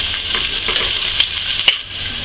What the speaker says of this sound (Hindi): अब इसमें हम कटा हुआ प्याज डालेंगे। इसको हम अच्छे से ब्राउन होने तक